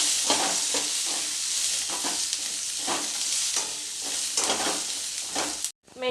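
Green chillies frying in a little oil for a raw tomato chutney, a steady close sizzle broken by repeated stirring scrapes, alone without talk, cutting off briefly near the end.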